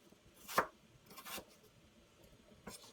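A knife chops apple on a board with a few quiet, sharp knocks spaced unevenly, one firmer strike followed by softer ones.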